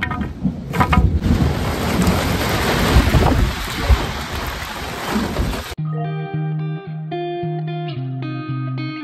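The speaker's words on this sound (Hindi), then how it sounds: "दोस्तों बारिश शुरू हो चुकी है" Heavy rain pours down with rumbling storm noise and strong wind, a dense, loud wash that cuts off abruptly partway through.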